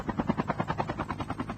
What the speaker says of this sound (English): But instead, they're going to go for the helicopter.